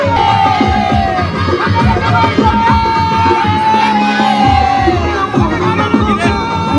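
A dense crowd fills the grounds of the Mata Lakshmi temple at Jhagdewadi village during a Guru Purnima festival fair, a loud continuous wash of many voices with shouts and cheers rising throughout.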